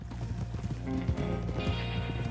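Horses in Red Dead Redemption 2 trot with rhythmic hoof clip-clops and let out a whinny, heard continuously over a steady droning game background.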